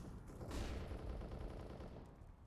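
Faint gunfire in Counter-Strike on the Overpass map, shot through a wall: a sharp crack near the start sits in a low, steady wash of game noise, heard distantly over a short span.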